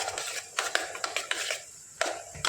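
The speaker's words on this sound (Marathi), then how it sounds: "आता आपण हे हलवून घेऊया." A spoon stirs three tablespoons of yogurt with salt in a pot for a chicken biryani side dish, giving a string of light clinks and scrapes against the metal at close range, with no talk.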